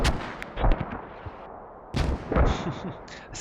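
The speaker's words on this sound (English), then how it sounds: "I can barely hear what's going on over the mortars." Mortar shells land in the Squad shooter game as sharp, loud booming impacts, with one cluster early on and another near the end, under faint voices.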